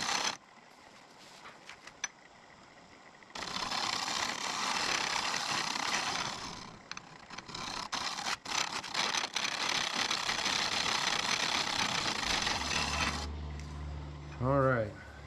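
An apple burl hollow form spins on a wood lathe while a tool scrapes it in a sustained, fairly loud rasping whir, with brief bumps and pauses. A quieter stretch leads in, and a short tonal hum appears near the end.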